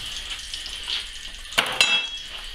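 A metal implement scraping and clinking in a cast iron pot of sizzling duck, with two sharp metallic knocks near the end over a faint hiss.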